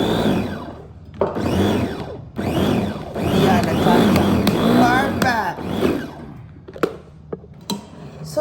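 A food chopper whirs through vegetables for a chicken kebab lumpia filling, running in several motorized bursts of a second or more, the longest lasting about three seconds, then stopping with a few light clicks and taps.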